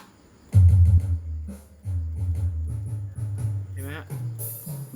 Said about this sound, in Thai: เห็นไหมตบมือ